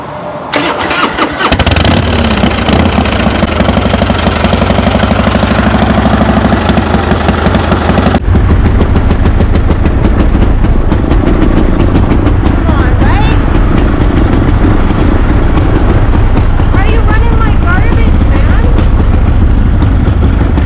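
A motorcycle engine cranks and fires, then runs loud and close with rough revs that sag and nearly stall whenever the throttle opens, while people talk over it.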